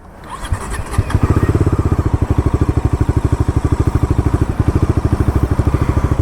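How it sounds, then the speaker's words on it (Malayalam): A Bajaj Dominar 350's single-cylinder exhaust starts up and settles into a steady, close, loud thumping pulse, each beat evenly spaced. "സിംഗിൾ സിലിണ്ടറിൽ എനിക്ക് വൺ ഓഫ് ദി പേഴ്സണലായിട്ട് ഇഷ്ടപ്പെടുന്ന വൺ ഓഫ് ദി എക്സോസ്റ്റ് ആണ് ഈ ഒരു ബൈക്കിൽ വരുന്നത്."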